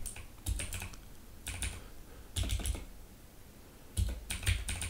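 Typing on a computer keyboard, faint close clusters of clicking keystrokes in several short bursts separated by pauses, with no voices.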